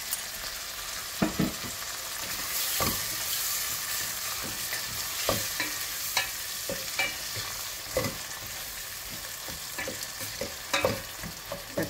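Tomatoes sautéing in a pan with salt give a steady, broad sizzle, with repeated sharp stirring scrapes and clicks scattered through it. It sounds close and fairly loud, and no one speaks.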